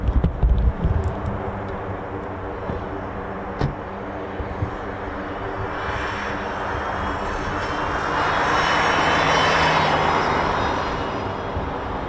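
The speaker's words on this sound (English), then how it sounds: "Nice arrival. The KC-46 Pegasus." A KC-46 Pegasus military tanker aircraft arriving at RAF Mildenhall, its jet engine roar building from a steady rumble into a louder broad whoosh near the end, with no voices.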